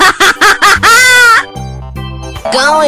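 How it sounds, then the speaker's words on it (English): Cartoonish video-game chicken clucking and crowing in loud, rapid bursts, a series of short squawks followed by a drawn-out cry and a low honking tone, up close and alone. "Chicken."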